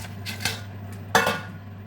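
A metal lid set onto a cooking pot of Nigerian melon soup with fish simmering over low gas heat, giving two close, sharp clinks against a faint steady background hum.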